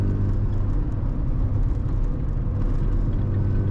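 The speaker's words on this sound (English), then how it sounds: "Car sounds so much better. I can finally hear the exhaust again." Exhaust of a Mazda RX-7 FC rotary after an intake leak was fixed, a steady low rumbling drone held close and fairly loud with no talking.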